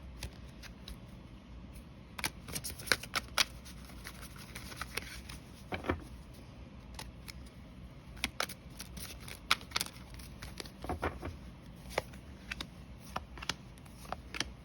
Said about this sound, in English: I'm just gonna shuffle 3 more times